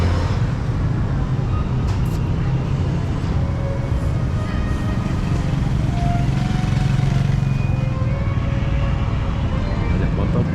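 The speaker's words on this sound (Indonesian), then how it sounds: "Banyak motor." Dense street traffic in Kuala Lumpur, with many motorcycles and other vehicles passing near Dataran Merdeka, making a loud, continuous roar of engines with no pauses.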